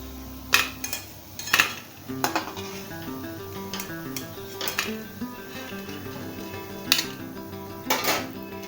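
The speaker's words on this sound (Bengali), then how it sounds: "পকোড়া একদম ভাজা হয়ে গেছে, তুলে নিচ্ছি।" Metal utensils clink and scrape against a pan at irregular intervals as fried yogurt-and-semolina pakoras are lifted out, with a soft sizzle of oil underneath.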